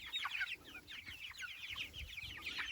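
Several chickens cluck and chatter softly in short overlapping bursts, fairly quiet, with no one speaking.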